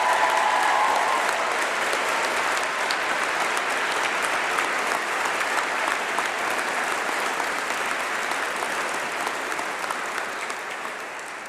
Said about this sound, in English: give a celebration and a big clap just to all of us